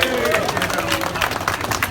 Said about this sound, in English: Give him a round of applause, what a good show.